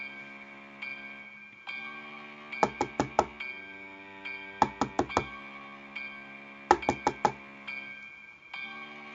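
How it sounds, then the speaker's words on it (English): Knocking on a door, heard as three separate bursts of four sharp raps, each set close and fairly loud, over a steady tonal background drone with no speech. "Knocking at my door."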